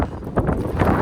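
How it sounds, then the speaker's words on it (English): Strong wind roars across the microphone during a record-breaking snowstorm in Cape Breton, Nova Scotia, a close, loud, gusty buffeting that rises and falls throughout the brief stretch. "bear with me because it's gonna be pretty windy"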